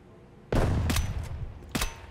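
Gunfire from the video game Escape from Tarkov: two or three loud, sharp shots in quick succession, the first a short burst, with a final separate shot after a brief pause.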